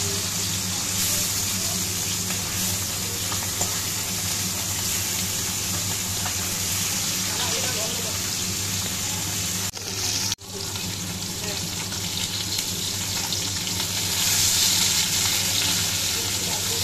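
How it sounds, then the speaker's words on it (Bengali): Boroli fish coated in turmeric and salt frying in hot oil, a steady close sizzle with occasional stirring and a brief clatter partway through. "হলুদ লবণ মাখিয়ে মাছগুলো একে একে ভেজে নিচ্ছি।"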